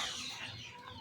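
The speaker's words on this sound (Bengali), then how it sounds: "মুরগিগুলাকে সকালবেলা ছেড়ে দেই" Chickens clucking close by on a farm on a winter morning, a brief busy burst of several birds with soft farmyard chatter, no voices.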